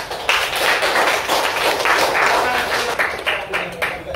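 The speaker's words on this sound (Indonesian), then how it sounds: "aplaus dulu untuk temannya" Students applauding a classmate in a school classroom during a physical education lesson, a dense, steady burst of clapping from many hands with voices mixed in.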